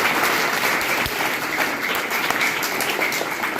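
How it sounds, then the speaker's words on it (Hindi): Loud, dense applause from an audience at a retirement farewell for a school principal, sustained steadily throughout with no speech over it. "एक बार आप सभी जोरदार तालियां।"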